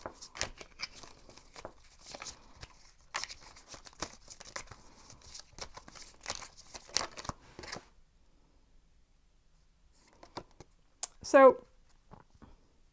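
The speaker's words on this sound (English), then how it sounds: "let's shuffle here" Tarot cards riffled and shuffled repeatedly up close, crisp flapping bursts in several rounds, with a short pause and a final quick shuffle near the end.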